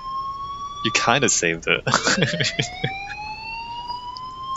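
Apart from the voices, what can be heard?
fire alarm in Life is Strange video game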